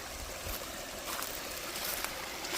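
A waterfall on the Pinhoti Trail pours steadily, a dense, even rush of water with a faint gurgle, no voices over it.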